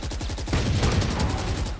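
Rapid automatic gunfire from Valorant, a steady stream of evenly spaced shots that rattles on for about two seconds and stays loud and close throughout.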